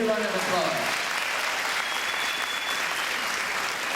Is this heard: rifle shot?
no